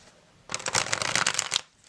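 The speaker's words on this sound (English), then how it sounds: "I think it's easy to riffle shuffle" Healing Waves tarot cards, slightly thick and bendy stock, riffle shuffled in one quick burst of rapid crisp card flutter lasting about a second, close and clear.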